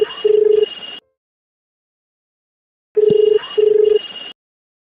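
A telephone ringback tone from an outgoing call: two bursts of a double ring pattern separated by about two seconds of silence, clear and close.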